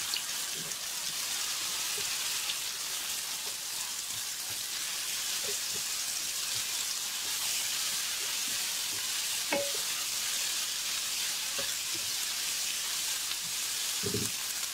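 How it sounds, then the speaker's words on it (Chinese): Shrimp and egg are stir-fried in a wok, with a constant loud hiss of sizzling oil and occasional scrapes and clinks of the spatula over the whole stretch. "定型以后开始翻炒"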